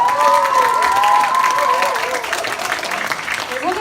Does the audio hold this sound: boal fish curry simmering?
no